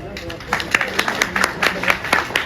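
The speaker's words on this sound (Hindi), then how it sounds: "सभी के लिए एक बार जोरदार तालियां बजा दें" A crowd at a Hindi comedy poetry gathering (hasya kavi sammelan) claps loudly for the chief guests, a dense run of hand claps with regular swells, close and steady over a low murmur.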